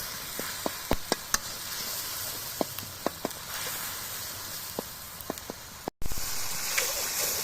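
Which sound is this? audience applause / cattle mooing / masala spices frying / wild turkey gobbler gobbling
masala spices frying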